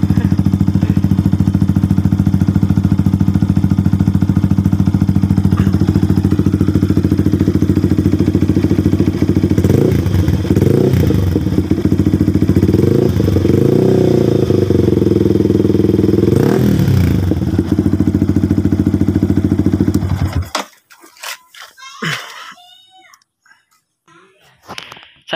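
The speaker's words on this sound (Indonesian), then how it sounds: "Seperti ini suaranya, nggak terlalu kencang, nggak terlalu adem juga" A Yamaha R15 V3 motorcycle fitted with a WRX K1 Trioval aftermarket exhaust idles and revs loudly up close with a deep steady drone, then cuts off abruptly, leaving brief faint clatter.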